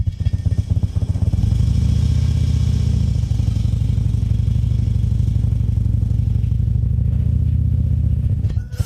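A large motorcycle engine idles and pulses with a low, steady thrum in a parking lot during a slow, tight U-turn, the revs swelling slightly midway while the clutch and rear brake are worked, close and continuous.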